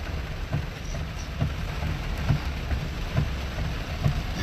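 Heavy rain pours down during a street flood in Boynton, a dense continuous hiss with soft thumps recurring about every second, loud and close, and no voices.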